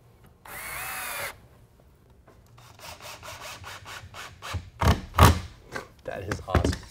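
A power drill drives screws into the wood of a workbench: one steady whir of about a second, then a run of short close bursts and clunks against timber, with a voice speaking at moments.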